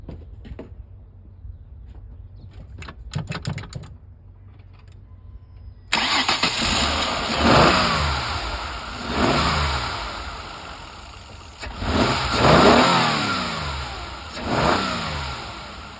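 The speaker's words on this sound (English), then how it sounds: "So let's look at the cranking test. Enter, start the engine." A car engine cranks during a battery tester check, catches and starts, then revs up several times in loud, close, rising-and-falling surges between idling stretches, with no talk.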